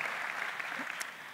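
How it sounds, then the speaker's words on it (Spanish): Applause from the audience at a regional awards ceremony, a soft, even spread of clapping heard from some distance, fairly faint and steady throughout. "Un aplauso para Laura Ferrer, por favor."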